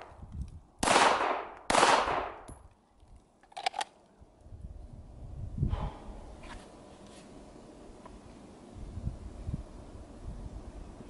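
Pistol shots at an outdoor shooting range from an MR920 or Omni 556 10-inch pistol, two loud sharp reports close together, then a fainter pop and lingering wind noise with distant rustling.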